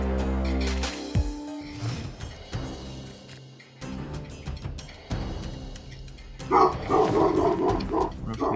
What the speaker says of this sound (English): Dog loves being loud.